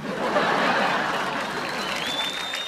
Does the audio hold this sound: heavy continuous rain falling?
no